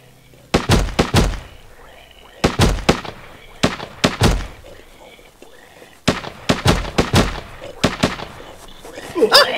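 Assault rifle gunfire in HurtWorld: bursts of loud, sharp rapid shots in clusters of three to four, repeated across the stretch with short pauses between bursts.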